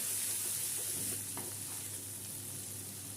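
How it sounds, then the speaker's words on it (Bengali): Ginger and garlic frying in a pan with turmeric and red chilli powder for an egg curry, a continuous close hiss of oil with a few soft stirring scrapes, no talking. "দিয়ে আদা রসুনটাকে আমি একটু ভেজে নেব।"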